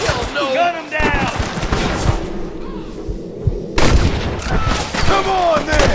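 Gunfire erupts in a Western shootout in the video game Red Dead Redemption: bursts of shots and thuds crackle under shouting voices, with a loud cluster of blasts partway through.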